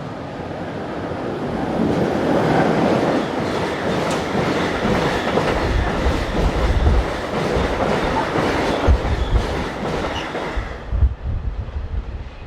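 A Swiss Re 6/6 Class 620 electric locomotive hauling a train past at close range, a loud steady rumble with rhythmic wheel clatter over rail joints that fades toward the end.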